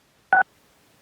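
Two short keypad tones from a caller pressing star 6 on a phone to unmute during a public teleconference meeting, each a clean, loud beep of about a tenth of a second, separated by nearly a second of silence.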